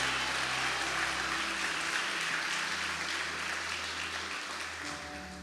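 A church congregation applauds Jesus during a Portuguese-language evening service, a dense, sustained clapping from a large crowd with low music held underneath, fading slightly toward the end.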